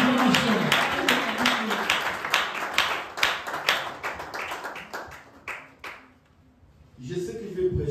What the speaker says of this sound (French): Honorez l'homme de Dieu par vos acclamations.